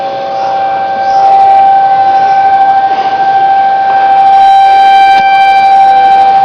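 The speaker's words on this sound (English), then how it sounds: "something must have been spotted for them sirens to go off like that" Civil defense sirens sound continuously during a tornado warning in Logansport, Indiana, holding a steady wailing tone with no one speaking.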